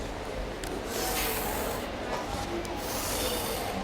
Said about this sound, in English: Draw straight lines from all your corners.